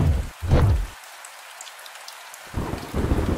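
Heavy rain pouring down in a dense, loud wash that cuts out briefly to a quieter gap before surging back, with no voices.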